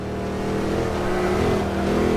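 A Mercedes SLR McLaren in the video game Forza 5: a steady, loud engine drone revs continuously, close and alone throughout.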